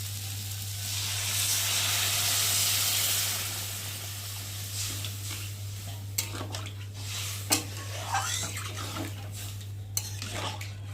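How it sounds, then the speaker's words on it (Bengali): Water is poured into a pan of Morola fish curry with potatoes, raising a steady rushing sizzle that fades into quiet bubbling, punctuated by a few sharp clinks of a utensil against the pot. "আর এখন আমি মাপ মতো জল দিয়ে দেবো"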